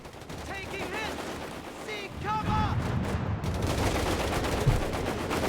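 Fallschirmjäger rifle squads firing in the strategy game Company of Heroes 3, a dense crackle of gunfire and battle noise with chirpy whistling tones early on, steady and moderately loud.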